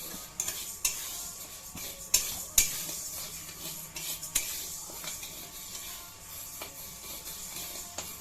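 Mung dal fries in a pan while a utensil scrapes and stirs through it, giving irregular close clicks and knocks over a soft steady sizzle.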